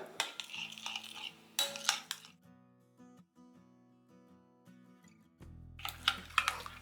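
Chilli powder, coriander powder and garam masala get stirred together in a bowl, a spoon scraping and clinking against the sides in short bursts, separated by quiet gaps under faint background music.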